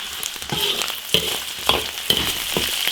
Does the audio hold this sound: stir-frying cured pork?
yes